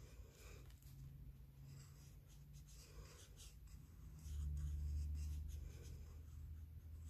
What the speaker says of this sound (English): if I'm going to draw something orange, okay, say I just want to draw a really cool design